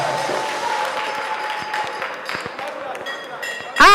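A short burst of crowd clapping at a student gas challenge quiz contest between university teams, moderately loud and continuous, with a brief sharp knock near the end.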